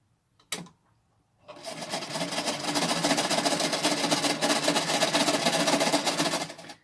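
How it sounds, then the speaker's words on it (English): A sewing machine stitches the top seam of a cotton face mask, starting after a single sharp click and then whirring loud and steady at close range for several seconds, with no voice over it. "just lay the fabric down and start sewing along the top"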